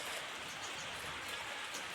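Rain falling on a farm in Maharashtra, a dense, uniform hiss of drops on surfaces, steady and fairly quiet throughout with no voices.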